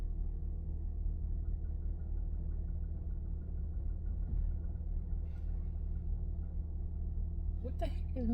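A vehicle engine idles as a steady low rumble that holds throughout, with faint speech-like sounds over it and a brief higher squeal near the end.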